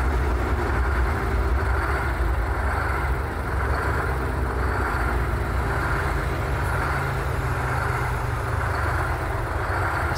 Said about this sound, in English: using kriechbaum's engine sounds on this run right here.